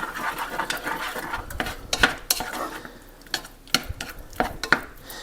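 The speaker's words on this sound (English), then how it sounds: "Mix that around before it gets too warm so it doesn't lump." A spoon scrapes and knocks around a pan while cornstarch is stirred into a warming dessert sauce, giving irregular clinks and soft scraping strokes close by, with no talking.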